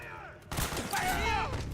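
Burst of gunfire in the Metal Gear Solid 4 video game, a sudden loud volley starting after a quiet moment and continuing as a sustained rattle with ringing tones over it.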